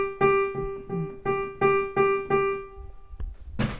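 Beginner piano lesson in the treble clef: a run of quick eighth notes struck in steady pairs, bright sustained tones played close and clear, ending in a short scrape of noise with no speech.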